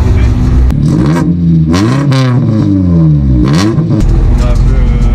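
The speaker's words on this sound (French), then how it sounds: "c'est un petit peu bruyant, il manque le silencieux à l'arrière" A Honda Civic EP1 track car with its rear muffler missing runs loud and raw, revving up and down in several strong surges, close by, with someone talking over the engine.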